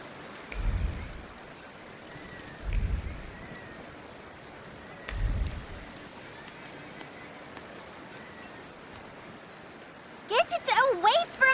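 Steady light rain falls in a city setting in The Thaumaturge, a soft constant hiss broken by three deep low thumps, with a voice speaking briefly at the end.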